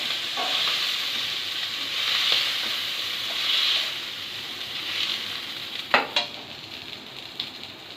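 Sizzling frying in hot oil in a kitchen pan, a steady hiss with several scrapes and knocks of a spatula stirring, louder clatters near the end.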